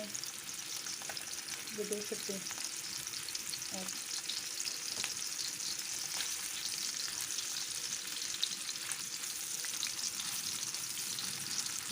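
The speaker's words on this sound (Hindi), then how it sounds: "अब मैं बाकी के जो है ना वो भी इसी तरह रख के फ्राई कर लूँगी।" Kababs fry in a pan with a faint, steady crackling sizzle and occasional light scrapes of stirring, while someone speaks briefly under the cooking noise.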